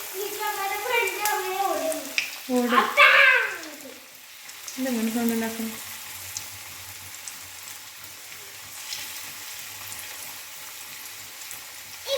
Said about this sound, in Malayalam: എണ്ണ ചൂടായി വന്നിട്ടുണ്ട് ഇനി നമുക്കിത് ഫ്രൈ ചെയ്യാം